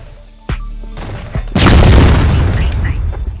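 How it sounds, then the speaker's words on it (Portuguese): Grenade explosion in an online shooter video game, preceded by a couple of sharp pops and then a loud, deep boom that rolls on and decays over the following seconds, close and dominant. "Da onde veio essa granada"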